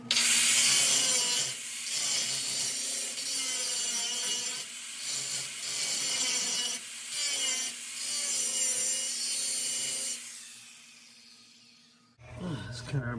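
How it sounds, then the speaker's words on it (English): Grinder flattening a metal part during a Chevrolet C-10 Turbo 350 transmission conversion, a loud rasping grind in repeated strokes with brief dips between passes, winding down toward the end before a short burst of other workshop noise. "Take this grinder and flatten that out"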